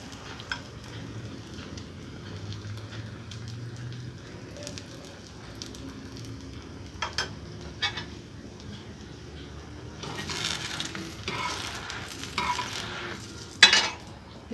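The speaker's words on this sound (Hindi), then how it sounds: "अब हमने पराठे के ऊपर इस साइड पे भी घी लगाना है।" Ghee is spread on a paratha frying on a hot griddle, giving a low steady sizzle with scattered scraping and utensil clicks, which grow busier and louder toward the end.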